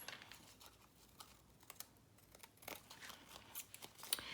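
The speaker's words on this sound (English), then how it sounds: "I'm going to just cut around here and get rid of the excess" Scissors snip around a piece of paper ephemera to trim off the excess, making faint, close, irregular cuts and crisp little paper rustles in a quiet room.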